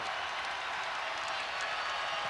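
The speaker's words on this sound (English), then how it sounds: "And Des Wells getting this crowd revved up even more so." College basketball crowd at Virginia vs. Maryland roaring steadily after a hustle play, a dense, continuous cheer with scattered clapping, bright and sustained with no clear break.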